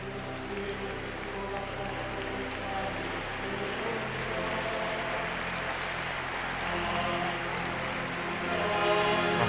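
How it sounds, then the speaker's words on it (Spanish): A congregation in a cathedral at an episcopal ordination applauds continuously, a broad steady wash of many hands that swells slightly toward the end, with a voice talking over it. "Los aplausos de tantos congregados, de tantos amigos"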